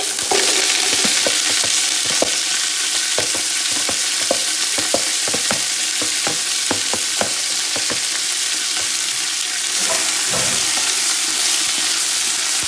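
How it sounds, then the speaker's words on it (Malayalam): Garlic, ginger, green chilli and curry leaves frying in hot oil with popped mustard seeds for a Kerala-style lime pickle, a loud steady sizzle with scattered crackles and stirring scrapes throughout. "കടുക് നന്നായി പൊട്ടി അതിലേക്ക് ഞാനിതാ വെളുത്തുള്ളി, ഇഞ്ചി, പച്ചമുളക്, കറിവേപ്പ് ഇതെല്ലാം കൂടി ഒന്നിച്ചിടുന്നുണ്ട്"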